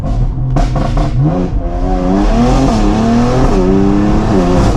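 A tuned BMW X3M with an XHP-modified ZF8 automatic accelerates hard, engine tone rising and snapping down through several rapid upshifts, loud and close from inside the car, with no talking.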